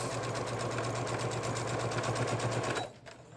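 A sewing machine stitches a dart in a beginner's basic blouse, running at a fast, even rattle for nearly three seconds, close and steady, then stopping abruptly.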